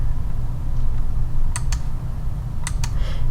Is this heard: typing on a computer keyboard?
yes